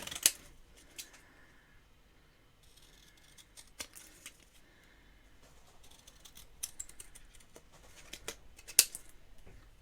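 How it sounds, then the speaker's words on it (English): Scissors snip through card while making a stamped snowflake Christmas card, a series of quiet, sparse crisp cuts and clicks at close range. "I'm just going to cut this out."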